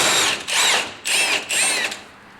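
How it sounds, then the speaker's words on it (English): Power tool unscrewing the coilover top hat nuts on an NB Mazda Miata, four loud close whirring bursts with brief pauses between them, then a fading spin-down. "Unscrew these 2 top hat nuts."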